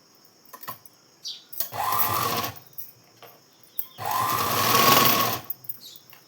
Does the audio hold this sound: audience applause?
no